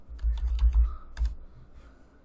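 Rapid bursts of computer keyboard typing, a quick run of keystrokes up front followed by a brief second flurry, close and fairly clear with no talking over it.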